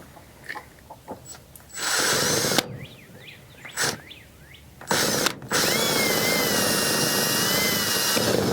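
A power drill whirs in several bursts while fitting a chicken tractor roof cover, short ones then two long sustained runs, loud and close with brief quiet gaps between.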